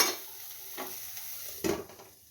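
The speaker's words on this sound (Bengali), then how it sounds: "একটু ভেজে নিই, একটু ভাজা হোক" Soybean chunks and spices frying in a home kitchen pan, a soft steady sizzle with a few brief louder stirring scrapes, close and alone with no voices.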